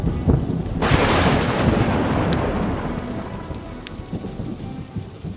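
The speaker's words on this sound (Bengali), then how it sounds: "হঠাৎ দূরে কোথাও তীব্র শব্দ করে বাজ পড়ে।" A rural nighttime thunderstorm brings steady heavy rain and a sudden loud thunderclap that rumbles and fades slowly over several seconds, with faint crackles in the background.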